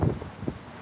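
Wind buffeting an outdoor microphone, a short stretch of low muffled rumbling gusts with two soft bursts and no speech.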